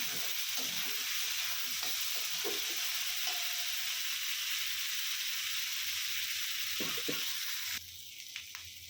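Crushed chillies hiss and sizzle after being dropped into a simmering curry, a steady loud frying wash with a few scrapes of stirring, then the sizzle drops sharply near the end.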